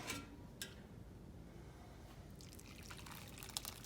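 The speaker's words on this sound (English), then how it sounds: "all of the bones and all of the veggies and everything we put in there is now straining out" Homemade chicken stock with bones and vegetables drips and trickles as it strains through a colander, a soft steady wet patter with a few brighter splashes near the start and end.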